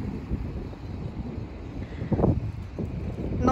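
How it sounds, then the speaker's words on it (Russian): Strong wind buffets the microphone outdoors in Norilsk, a steady broadband rush with gusts swelling and easing throughout, no voice over it. "Ветер сегодня сильнее, чем вчера."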